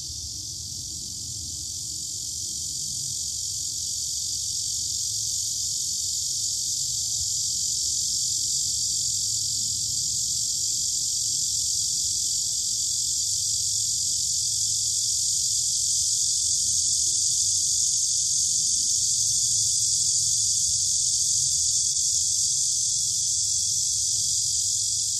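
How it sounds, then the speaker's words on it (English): A cicada sings a loud, steady, high-pitched buzzing drone that holds unbroken, swelling slightly at the start and then staying constant, close and alone. "So here comes the cicada."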